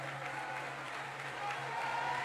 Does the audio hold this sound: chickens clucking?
no